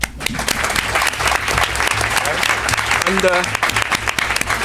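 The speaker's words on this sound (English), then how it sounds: "What about a round of applause for that?" An audience at a November 2002 oath of office ceremony applauds continuously and loudly, a dense, steady wash of clapping throughout, with a voice briefly heard over it.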